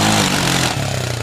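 A four-wheel drive quad's engine, loud and close, a rough throbbing drone that dips slightly in pitch partway through the short burst.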